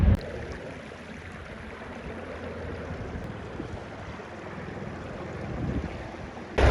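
Fast water rushing through a canal branch that supplies several towns, heard standing about 13 feet below; a steady broadband roar of turbulent flow, loud and continuous throughout, with no one talking.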